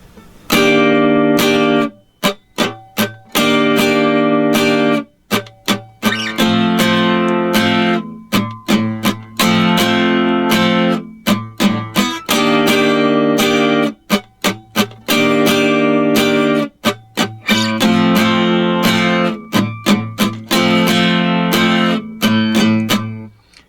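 An acoustic guitar strums a chord progression in a loud, rhythmic down-up pattern, repeated several times with short gaps between the chord changes.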